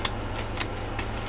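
Scissors trim a paper journal card in a few quick, close snips over a faint background hiss.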